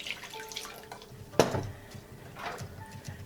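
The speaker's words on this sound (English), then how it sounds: "I have some very hot water here, and I'm going to pour it over" Very hot water poured over metal canning jar lids with rubber seals, a short splashing pour in the middle with faint dripping and clinking of dishes around it, close by and moderately quiet.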